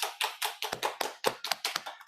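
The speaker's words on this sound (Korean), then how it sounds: "우리 환영의 박수" A classroom of people gives a short round of welcoming applause, sharp separate claps in a quick uneven rhythm, close and fairly soft, with no talking.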